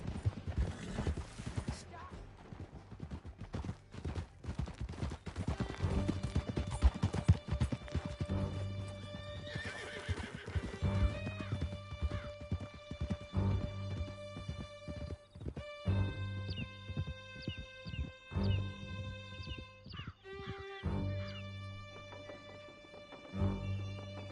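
Horses gallop with steady clip-clop hoofbeats and loud repeated neighs and whinnies in Red Dead Redemption 2, over a continuous bed of music and game noise.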